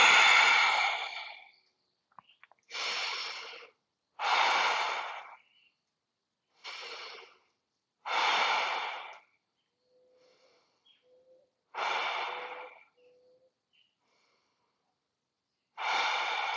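Slow, deep breaths during a yoga forward fold, each a soft, airy inhale or exhale lasting about a second, repeated with quiet pauses between them, close to the microphone.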